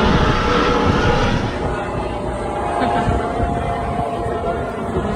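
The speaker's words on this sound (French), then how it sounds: "Michel, un hélico, vient nous faire un coucou." Loud, steady rotor and engine roar from a helicopter circling close overhead a boat at sea, a dense broadband drone with a slight dip partway through.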